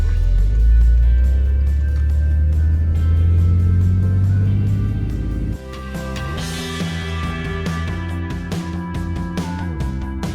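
A red GMC truck descends a steep hill, its engine a loud, close drone that shifts pitch and drops partway through before settling into a lower steady hum with light rattles.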